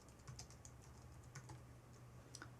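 Soft, quiet typing on a computer keyboard, a steady run of light key clicks over about three seconds with no one speaking.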